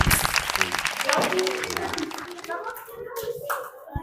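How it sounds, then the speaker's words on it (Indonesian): A class applauds, with loud, dense clapping from many hands close by that thins out toward the end, while children's voices chatter underneath. "Oke, tepuk tangan untuk semua."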